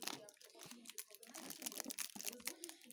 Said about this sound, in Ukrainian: Заліпимо скотчем